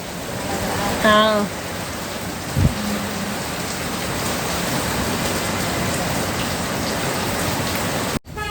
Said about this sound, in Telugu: ఇక్కడ కూడా ఫుల్ వర్షం అనమాట